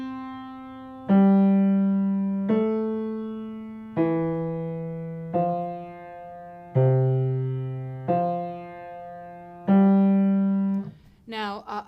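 A low piano left-hand accompaniment pattern for Pachelbel's Canon in C repeats struck notes in a steady rhythm, each decaying before the next, clear and close.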